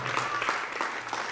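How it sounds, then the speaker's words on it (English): Audience applause welcoming a speaker at a business event, steady clapping from a gathered crowd, moderately loud and continuous throughout, with a faint voice mixed in. "with a round of applause, let's welcome Mr. Benjamin Nathan Otchere"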